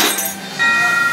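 A small metal bell dropped into a bucket at a Christmas adventure attraction, giving a bright clinking ring that fades, then a second sustained chime that rings on clearly to the end.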